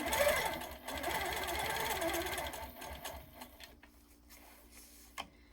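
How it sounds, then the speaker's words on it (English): A Platinum Q 165 quilting machine stitches in the ditch along a ruler with a rapid, steady mechanical whir for about three seconds, then stops, leaving faint clicks and handling noises. "So I'm going to stitch in the ditch here."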